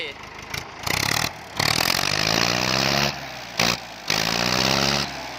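A Ford 6600 farm tractor's diesel engine idles steadily close by with a deep, even drone, briefly dropping out in places while someone speaks over it.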